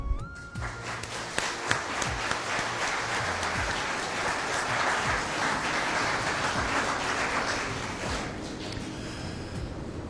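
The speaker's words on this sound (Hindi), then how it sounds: "तो शुहदा के लिए जो है वो तालियां" Audience applause for fallen martyrs at a Defense Day speech event: a dense, sustained crowd clapping that carries steadily at a fairly loud, even level for about ten seconds.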